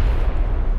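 Grenade blast in PUBG, a single deep, loud boom with a rumbling low-end tail lasting under a second.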